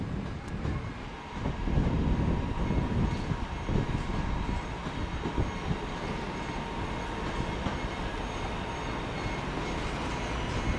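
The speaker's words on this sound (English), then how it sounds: "we're going to have the 11:33 northern service to Hadfield" A Northern train bound for Hadfield rolls into Manchester Piccadilly. It gives a steady rumble of wheels and engine that swells early, then settles into a continuous drone with no voices.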